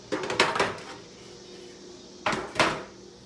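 Two short bursts of metallic clanking as a pan is shifted across a stovetop, separated by a quiet pause.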